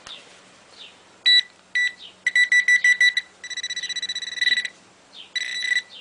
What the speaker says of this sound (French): on va essayer au pinpointer d'abord